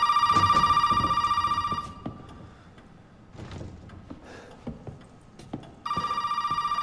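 A telephone rings in Resident Evil 7, a loud electronic ring that sounds for about two seconds, stops through a stretch of quieter footsteps and game noise, then starts again near the end.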